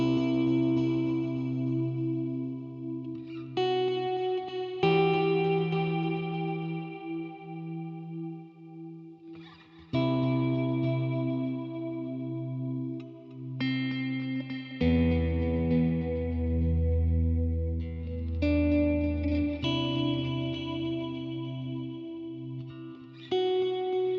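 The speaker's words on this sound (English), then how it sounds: "I like to bring this mod depth and the mod rate up a little bit, just to add a little modulation to the reverb" Clean post-rock electric guitar through a shimmer reverb with modulation depth and rate raised, ringing chords with octave-up shimmer tails and gentle chorus-like wobble, played alone and fairly loud, new strums arriving about every five seconds.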